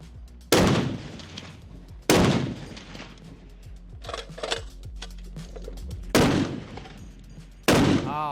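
An AK-50 rifle fires four heavy, booming shots, including a quick double tap, each a sharp blast with a long echoing tail, spaced a second or more apart.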